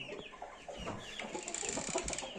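Young chickens, growing chicks and cockerels in a breeding coop, cluck and peep in quick, overlapping bursts close by, with no voices.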